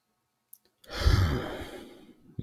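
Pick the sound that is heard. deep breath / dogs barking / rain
deep breath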